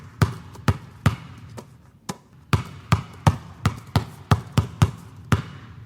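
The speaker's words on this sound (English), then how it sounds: "If you guessed a basketball bouncing," A basketball bounces in a steady dribbling rhythm, each sharp thud close and clear, with a brief pause before the rhythm picks up again.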